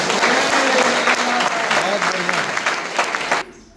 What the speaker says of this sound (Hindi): तालियां तो बनती है सर।